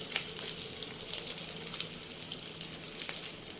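Beef shami kebab patties fry on a flat pan after being flipped, giving a soft, even, steady sizzle with faint crackles, fairly quiet and without voices.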